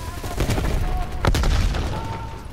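Gunfire in Call of Duty Black Ops Cold War, a few sharp shots and booms cracking over a low rumble, with a heavier burst midway and faint tonal game sounds, loud and close.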